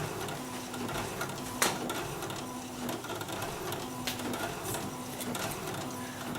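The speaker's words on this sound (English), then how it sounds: "not the fastest printer in the world" Steady mechanical whirring of a printer running slowly, with faint repeating hum tones and a few soft clicks and clacks throughout.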